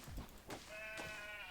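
A sheep in the video game Craftopia gives a single bleat, a short wavering cry after a couple of soft thuds, fairly quiet and heard alone without talk.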